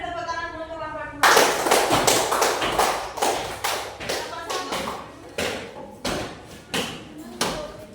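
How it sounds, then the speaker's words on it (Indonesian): Students in a primary school class give group two a round of applause after a teacher speaks. The clapping is loose and uneven, with bursts of sharp, close claps fading and restarting. "beri tepuk tangan dulu untuk kelompok 2"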